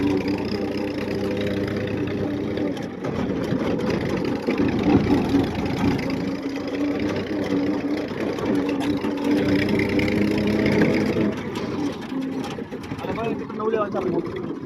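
A tractor engine idles and runs with a steady, rough mid-pitched chug throughout, close and fairly loud, while people talk over it.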